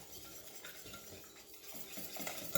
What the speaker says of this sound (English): with our whisk, we're just gonna mix it all together